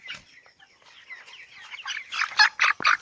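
A 24-day-old broiler chicken clucks as it is caught for weighing, soft at first, then rising into several loud, agitated squawks close by.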